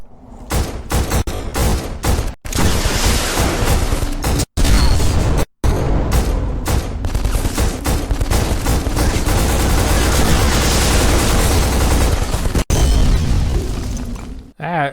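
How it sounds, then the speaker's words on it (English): Full-auto gunfire in the shooter game Black comes as a loud, nearly continuous barrage of shots. The firing runs with shattering impacts and a few sudden short gaps, and a voice speaks at times under it. "One of those cases where full auto firing is actually good."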